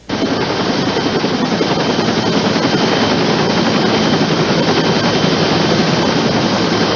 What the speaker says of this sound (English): Three-year-old Olivia and 5-year-old Giselle were taken by AirMed helicopter to Terrebonne General Medical Center